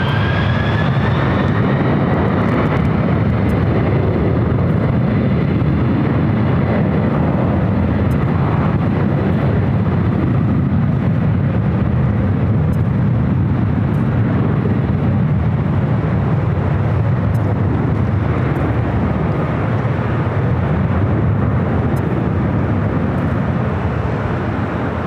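A Star Alliance airliner passing at Los Angeles LAX airport, a loud, sustained engine roar close by with a whine that slides in pitch near the start and a rumble holding steady for the whole stretch.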